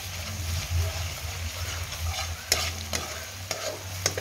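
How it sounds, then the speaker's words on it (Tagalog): Tomato paste is stirred into garlic and onion sautéing in a pan, making a continuous sizzle with a few sharp spatula scrapes and taps near the end, no speech. "pag kontento na kayo na sautay sa bawang at saka sibuyas, ilagay na ang tomato paste"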